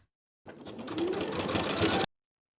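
Sewing machine basting across blouse edges, a single rapid mechanical stitching run of about a second and a half that starts abruptly, speeds up slightly and stops sharply, close and alone.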